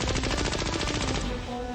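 Rapid automatic gunfire from a machine gun in the horror video game Poppy Playtime Chapter 3, a loud continuous burst of fast regular shots that stops abruptly just before the end.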